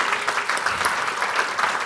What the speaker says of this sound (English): Round of applause for Matt Brains, guys.